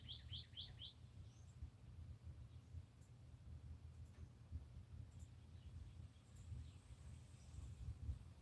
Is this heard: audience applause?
no